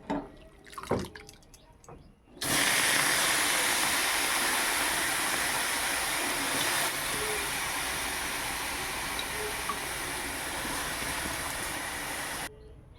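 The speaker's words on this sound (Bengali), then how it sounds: "এবারে আমি বাঁধাকপিগুলো সিদ্ধ করে নেব।" Cabbage boiling in a pot with salt and turmeric, a loud steady rushing bubble that starts abruptly after a few clinks and continues evenly, then cuts off.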